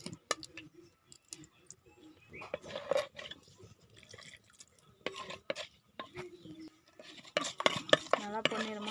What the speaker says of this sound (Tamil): அதே கடாயில் கொஞ்சமாக வெந்தயம் சேர்த்துக்கோங்க.